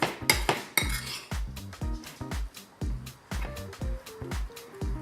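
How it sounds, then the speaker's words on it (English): A spoon stirs a chocolate after-school snack in a bowl, making a series of sharp, close clinks and scrapes against the dish in an irregular rhythm, with no talk. "I'm gonna stir this up."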